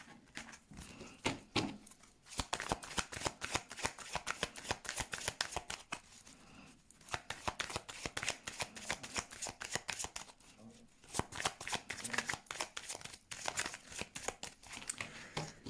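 A deck of tarot cards is shuffled by hand up close, a fast run of crisp riffling slaps and flutters with brief pauses, fairly quiet, and a faint voice now and then.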